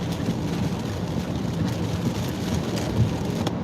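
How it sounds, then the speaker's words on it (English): Rain falling steadily outdoors at night, a dense continuous hiss with faint patter that holds at even loudness throughout, no voices. "it's raining more over here than where I was just at"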